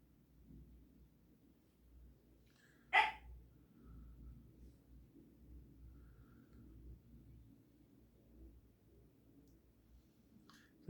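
A dog in a home workshop where a PS5 console's USB and HDMI ports are being repaired lets out one sharp, loud bark, then a faint clipped yelp much later, over a steady low room hum.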